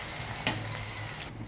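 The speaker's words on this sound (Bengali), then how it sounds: "রসুনটা আমি হালকা একটু ভেজে নেব।" Garlic sizzling lightly in mustard oil in a pan, a steady close frying hiss with one brief clatter of the garlic going in, the sizzle cutting off near the end.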